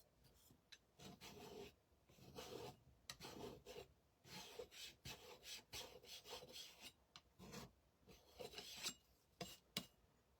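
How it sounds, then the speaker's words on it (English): A sanding block rasps back and forth over a wooden craft bird in quick, close, rhythmic strokes, broken by short pauses, with no talking. "And we might even take the sanding block to him."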